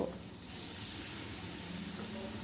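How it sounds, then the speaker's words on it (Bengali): Steady close-up sizzling and crackling of garlic and onions frying in hot oil, a continuous hiss with no talking. "এবারে পেঁয়াজের সঙ্গে এই রসুনগুলো একটু ভালো করে ভেজে নেব"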